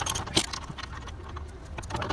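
Metal spanner clinking and rattling against a nut while reaching under an E92 BMW to fit an adjustable control arm, with one sharper clank early on followed by faint, close-up jangling.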